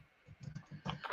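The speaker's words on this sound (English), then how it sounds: "I was just typing in." Fingers type on a computer keyboard in a quick uneven run of soft clicks, close and faint, with no talking.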